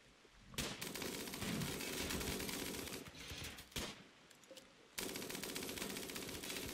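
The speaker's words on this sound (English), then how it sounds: "Sniper rifle and bolt action looks like they're doing most of the work" Sniper rifle and bolt-action rifle fire in a RimWorld battle: rapid overlapping gunshots and bursts in dense clusters, loud and close, with brief gaps between volleys and no voices.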